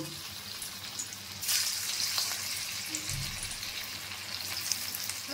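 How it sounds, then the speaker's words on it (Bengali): Dhoka lentil cakes hit hot oil one by one, raising a sudden loud sizzle that settles into a steady bubbling fry, close and alone without talk. "তেলটা গরম হয়ে গেছে এবার আমি ধোকাগুলোকে একটা একটা করে দিয়ে"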